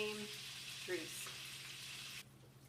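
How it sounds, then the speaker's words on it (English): Meatballs frying in leftover browning grease in a pan, a steady close sizzle that carries on evenly and then drops off sharply near the end. "So now I'm just going to use that same grease and cook the meatballs."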